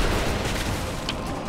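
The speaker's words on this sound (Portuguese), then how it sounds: "Foi um tiro e tanto" A loud, dense burst of gunfire with booming low end from a video game firefight in Rise of the Tomb Raider, filling the whole short moment with no pauses.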